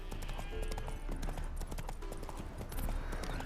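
Horse hooves clip-clop steadily at a trot in The Witcher 3: Wild Hunt, Hearts of Stone, with a brief faint whinny mixed into continuous outdoor game ambience.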